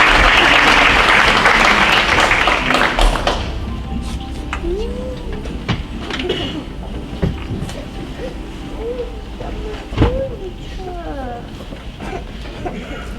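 Large audience applause at an honors night, loud and dense for about three seconds before thinning into scattered claps and crowd murmur, with people talking faintly underneath.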